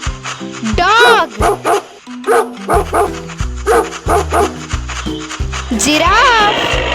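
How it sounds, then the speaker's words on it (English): A dog barks in quick yipping bursts, some whimpering, repeated across several seconds over a bouncy children's song with a singing voice, part of an animal-sounds kids' track. "Dog."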